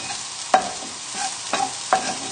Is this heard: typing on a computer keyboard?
no